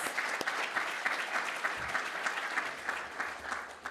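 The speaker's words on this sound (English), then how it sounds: "So a massive round of applause to all of those out there in the state and territories." Conference audience gives a big round of applause for the state and territory Landcare peak bodies. The sustained clapping is moderately distant and fills the room evenly, with individual claps standing out now and then.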